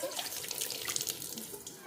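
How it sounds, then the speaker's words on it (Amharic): Water pours into a small iron pot in a steady, close splashing stream that runs unbroken for the whole moment, with no voices. "በዚህች በብረት ድስት ትንሽዬ ውሃ አድርገን ላሳያችሁ።"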